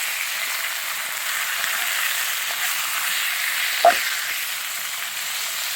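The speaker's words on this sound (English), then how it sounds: "frying up the liver" Beef liver fries in a pan with a steady, soft sizzle. A single small clink comes partway through.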